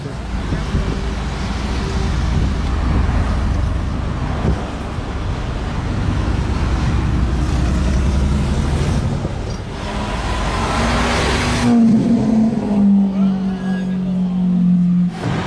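A Ford GT supercar passes through Place du Casino, its engine rising and swelling over street traffic noise, with a rev and tonal whine near the end and voices faintly mixed in.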